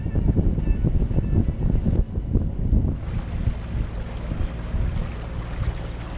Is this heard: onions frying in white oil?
no